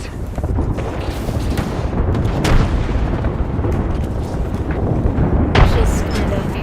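Frag grenade going off in a shooter video game, a heavy booming blast over dense, rumbling battle noise, with sharp bursts standing out near the middle and again near the end.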